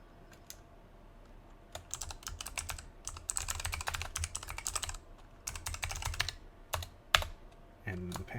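Login credentials are typed on a computer keyboard, with bursts of quick, close key clicks separated by short pauses over a quiet room hum.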